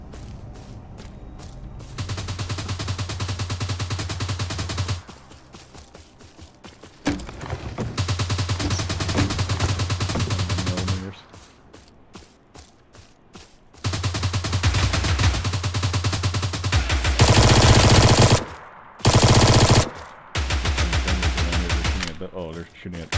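Bandits fire guns in a video game, sustained bursts of gunfire coming in several long stretches separated by brief quieter gaps, fairly loud throughout.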